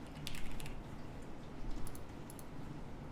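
Computer keyboard typing a card name, a few quick bursts of close, crisp key clicks separated by brief pauses, no voices.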